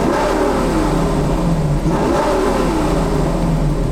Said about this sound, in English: So wanted you guys to hear if you guys can hear the exhaust inside the cab before we do the new exhaust.